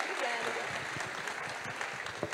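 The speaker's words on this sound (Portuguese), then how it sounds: "Por favor, senhor Sérgio Xavier, a quem pedimos uma salva de palmas." An audience at an environmental state conference applauds speaker Sérgio Xavier, a moderate, steady patter of clapping from a hall, fairly distant, with a voice talking over it.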